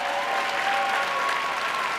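A live audience at an ice-skating dance show applauds a skating pair after their routine, a steady, dense wash of clapping that holds evenly throughout with a faint tonal thread running beneath.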